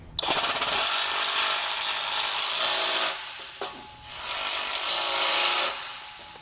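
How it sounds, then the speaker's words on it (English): A wrench and socket tighten lock nuts on a trailer frame, making two close, loud bursts of rapid ratcheting separated by a short pause. "now we'll just grab our wrench and socket and tighten it down."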